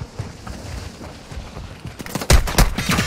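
Gunfire in Call of Duty Warzone, at first scattered distant pops under quiet, then a burst of loud close shots near the end.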